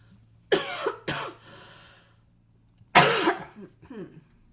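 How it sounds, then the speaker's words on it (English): Three sharp coughs, a quick pair followed by a single louder one after a pause, close and alone in a quiet room. "I'm going to cough again"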